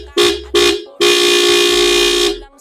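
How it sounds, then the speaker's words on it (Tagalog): An Antarctica Loudhorn vehicle horn is tested with two short loud blasts followed by one long sustained blare, a bright, harsh tone heard up close with no talk over it. "So ayan, narinig nyo, yun yung ating Antarctica Loudhorn."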